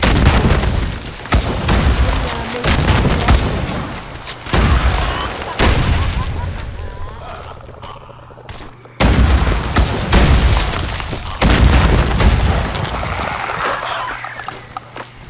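Gunfire and booming blasts from a Fallout 4 battle at Diamond City, with loud repeated shots and explosions landing in bursts throughout, and a voice talking between them.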